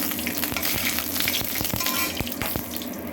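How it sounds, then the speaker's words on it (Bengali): A dried red chilli and black cumin seeds fry in hot oil with a continuous close sizzle broken by sharp, irregular crackles and pops. "তেল গরম হয়ে গেছে, আমি দিয়ে দিচ্ছি একটা শুকনো লঙ্কা আর কালো জিরে"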